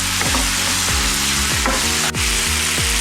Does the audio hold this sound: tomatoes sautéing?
yes